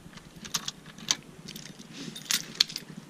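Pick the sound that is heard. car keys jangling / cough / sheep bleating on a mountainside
car keys jangling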